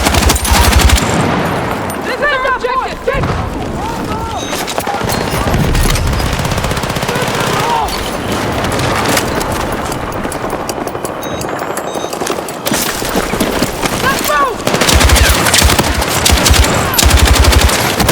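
Sustained light machine gun fire in Battlefield 6 multiplayer, loud rapid bursts crackling almost continuously with explosions and battle noise, game voice lines and someone talking underneath.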